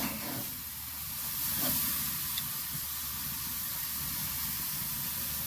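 Ribeye steak sears over an open fire, giving a steady, moderately quiet sizzle and hiss with a few faint pops.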